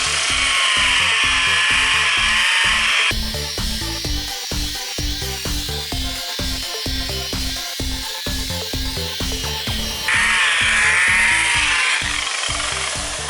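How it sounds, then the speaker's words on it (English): A digital polisher with a foam pad running at 1900 RPM on a cloudy headlight of a Mercedes W163 ML320, a loud steady motor whine with rhythmic rubbing pulses, close and continuous. "ours is a digital polisher, so you can go as many RPMs as you want"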